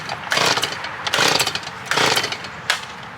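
A chainsaw cutting up a storm-fallen tree revs in three loud bursts, each roaring for about half a second before dropping back toward idle, with one last short rev at the end.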